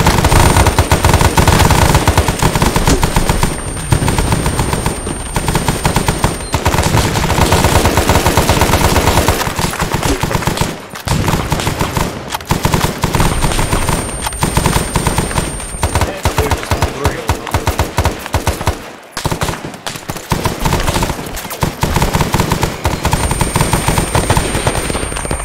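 Sustained automatic gunfire in the game Arma 3 SOG Prairie Fire, loud overlapping bursts from several weapons firing almost without pause, with voices talking underneath.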